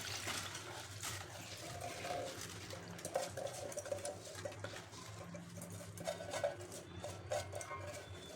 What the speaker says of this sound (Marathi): तर आता ह्यातलं पाणी काढून घ्यायचं आपल्याला